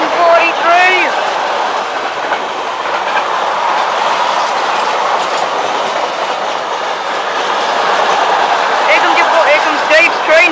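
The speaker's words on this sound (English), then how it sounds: "Here comes Dave's train, 14:43 from King's Cross to Newcastle." A 14:43 King's Cross to Newcastle train arrives at Newark North Gate, a loud, close rumble with clickety-clack wheel beats and brief squeals, with people talking over it.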